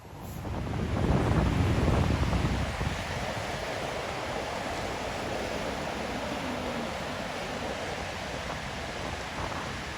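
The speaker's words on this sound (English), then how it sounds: "captured a little bit more of the sea." Sea waves washing onto a beach on a sunny day, heard as a steady broadband surf roar with wind buffeting the microphone, louder gusts in the first few seconds before settling into a constant wash.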